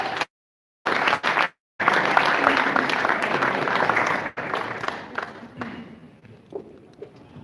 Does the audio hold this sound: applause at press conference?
yes